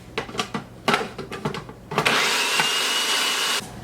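A blender purees fresh peaches for a strudel cake, first in short choppy pulses and then in one steady loud whir that cuts off abruptly.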